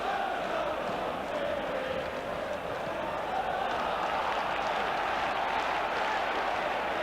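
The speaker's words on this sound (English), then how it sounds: "Fully deserves the goal and the acclaim of the White Hart Lane crowd." A football crowd at White Hart Lane, Tottenham's ground, roars and applauds after a goal in a Spurs v Newcastle United match, a dense, sustained wash of cheering filling the whole stretch.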